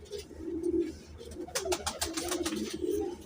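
Frozpuri pigeon cooing in soft, repeated low coos, close and fairly quiet, with a few rustling or flapping bursts midway and no talk.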